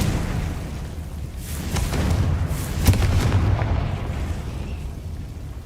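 A Confringo blasting curse goes off as a deep, rumbling explosion that swells in the middle with a sharp burst, then fades into a lingering low roar.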